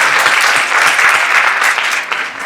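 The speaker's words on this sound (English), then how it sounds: "just here, round of applause." Loud, dense applause from an audience at a panel on appointed positions in state government, steady and close throughout.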